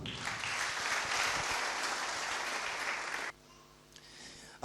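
A church congregation bursts into loud, sustained applause for about three seconds, then the clapping cuts off abruptly, leaving a quiet room with a few last claps at the end.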